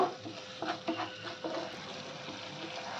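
Spices and yogurt stirred in hot oil in a pan over a low gas flame for an eggplant curry, giving soft scraping spatula strokes over a gentle sizzle, close but fairly quiet, no speech.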